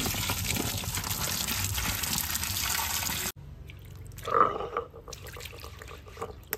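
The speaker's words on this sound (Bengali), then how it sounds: "কসলা কুলগুলো আমরা আগে ভালো করে ধুয়ে নেবো" Jujube fruits are rinsed in water, with a steady gush of running water up close for a few seconds, then quieter splashing and sloshing as the fruit is swirled and handled.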